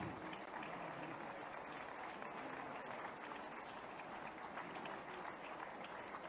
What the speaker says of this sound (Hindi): लगातार तालियों के साथ स्वागत, सत्कार, अभिनंदन,